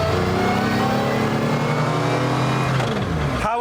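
A Mercedes-Benz CLK GTR Roadster hypercar engine roars loud and close, holding a steady, dense, harmonic howl under hard acceleration, then dropping in pitch as the revs fall near the end.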